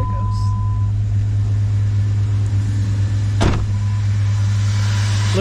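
A Jeep 4.0 liter engine runs at idle as its lifters settle in, giving a continuous, loud, low rumble with a rhythmic pulse close by.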